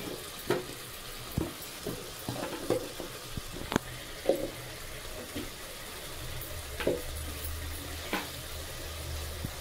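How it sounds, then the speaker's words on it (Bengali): Chicken with a little chili powder being stirred in a frying pan, giving faint sizzling and intermittent scrapes and taps of a spoon against the pan, close by with no talking. "আবার আমি ভালো করে নেড়ে চেড়ে নেব।"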